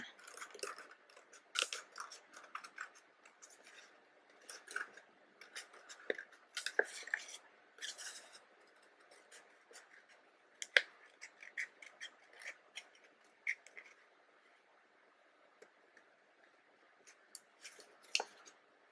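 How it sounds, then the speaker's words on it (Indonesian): Scissors snip paper repeatedly while shaping a wave cutout for a children's craft, giving a series of close, crisp cuts in short bursts with brief pauses between them. "Seperti ini ya, kita gunting."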